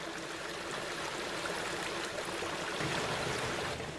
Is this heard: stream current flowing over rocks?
yes